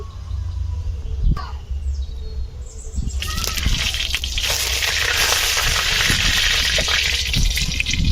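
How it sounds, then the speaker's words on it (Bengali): Cooking oil goes into a hot karahi, with eggs waiting to be fried in a rural kitchen. A few quiet clinks come first, then a broad, steady sizzle rises and keeps hissing close by. "কড়া গরম হয়ে গিয়েছে এবার তেল দিয়ে দিচ্ছি"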